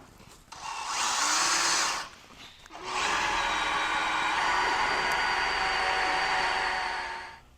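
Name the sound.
power drill drilling through truck frame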